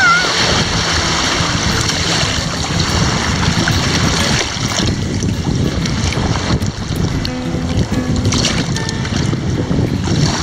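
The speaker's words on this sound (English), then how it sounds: "Here comes a wave." Waves wash and splash continuously at a coastal inlet, a loud, dense rush of water with heavy wind buffeting the microphone throughout.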